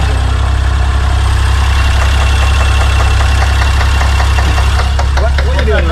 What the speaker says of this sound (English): Another Honda started right up, right up.